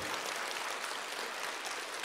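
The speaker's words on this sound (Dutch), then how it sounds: "Zullen we eens even een heel erg keihard applaus geven gewoon?" Children clap as hard as they can at a university lecture for kids, a brief, dense patter of many small hands, steady and unbroken, heard at low level without any talking.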